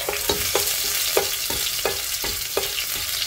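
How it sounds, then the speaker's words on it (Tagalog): Garlic sautéing in a pan sizzles steadily, with a spatula stirring in regular scraping strokes roughly every third of a second, close and fairly loud with no talking. "Simulan natin sa pagigisa. Okay, gisa muna natin ang bawang"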